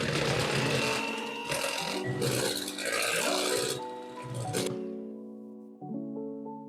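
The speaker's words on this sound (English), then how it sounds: "Now I'm done with the hand mixer." Electric hand mixer beating cake batter at low speed, a loud steady buzzing drone with bowl scraping that stops partway, followed by faint clinks and handling noises.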